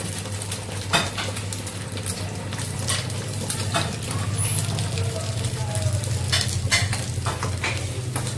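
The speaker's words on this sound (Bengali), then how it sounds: "কিন্তু নাস্তার জন্য ডিম ভেজে নিচ্ছি" Eggs frying in a pan for breakfast, a steady close sizzle with scraping and stirring clicks of a utensil against the pan and occasional clinks, faint voices in the background.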